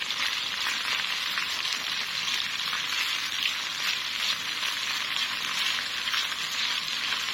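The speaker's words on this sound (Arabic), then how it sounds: "بعد ما هيتشوح هنحط كام فص توم كده نكون دقاهم، هنحطهم ونقلبهم معاه" A few crushed garlic cloves sauté in a pan, giving an even, steady sizzle at moderate volume, with faint stirring beneath it and no voices.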